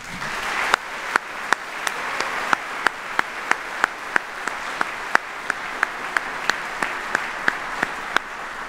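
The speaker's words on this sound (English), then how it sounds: "one more round of applause for our families" Sustained audience applause at an Army retirement ceremony at Joint Base Myer-Henderson Hall, a dense even wash of clapping punctuated by regular sharp ticks.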